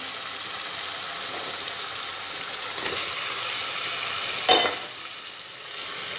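Potatoes dropped into spiced masala frying in oil, a steady loud sizzle with stirring and a brief sharper splash of hissing as the pieces hit the pan, then the frying settles back to a constant crackle.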